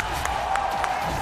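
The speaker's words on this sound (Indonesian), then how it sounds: "Boleh minta tepuk tangannya" Crowd applause and cheering in a packed arena at an M4 Mobile Legends world championship knockout match, a steady wash of clapping with a few sharper bursts, heard alone without talk.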